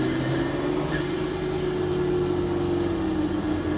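A Land Rover Defender's engine drones loud and steady while driving, a constant low hum with a sustained tone and road noise, no voices.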